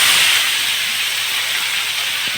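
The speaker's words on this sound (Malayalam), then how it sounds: "എണ്ണ ചൂടായിട്ടുണ്ട്. അപ്പം നമുക്കിനി ഈ മീൻ ഇതിലോട്ടൊന്ന് ഇടാവേ." Fish, a kilo-sized net-caught silopi, drops into hot oil and sets off a loud, steady, close hiss of sizzling that holds for the whole short stretch.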